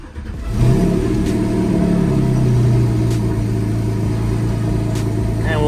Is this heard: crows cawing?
no